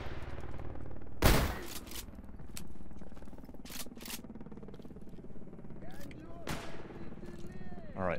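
Enemy machine gun fire in S.T.A.L.K.E.R. GAMMA crackles in sharp bursts over a rumbling background, with a loud volley early and scattered shots later, while a player talks over the combat.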